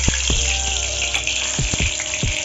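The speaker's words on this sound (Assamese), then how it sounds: "তেলখিনি গৰম হৈ গৈছে। মই ইয়াতে জলকীয়া ঢালি দিছোঁ" Whole chilies dropped into hot oil in a home kitchen while cooking duck curry, giving a steady loud sizzle and crackle, with a few sharp clinks and knocks of utensils throughout.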